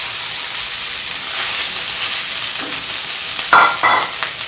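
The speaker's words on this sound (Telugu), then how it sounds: "ఇప్పుడు నేను దీనిలో రైస్ యాడ్ చేసుకుంటున్నాను." Rice being stirred into fried garlic in a hot pan for garlic fried rice gives a steady, close sizzle and hiss, with a few louder scraping stirs near the end.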